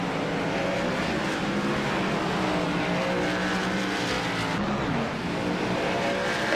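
Several race cars roar together at Sonoma in iRacing's Stars & Stripes Series, a steady loud engine drone with shifting pitches as the cars pass, no voices.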